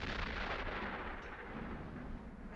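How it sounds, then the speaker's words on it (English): Distant cannon fire in a Western film rumbles as a low, continuous roll, like thunder far off, faint and without distinct separate blasts. "That could be cannon fire."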